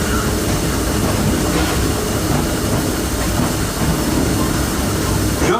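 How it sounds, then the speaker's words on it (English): The Disneyland Railroad train runs steadily on its rails, giving a loud, continuous rumble and clatter heard up close from on board. "please remain seated until the train comes to a complete stop"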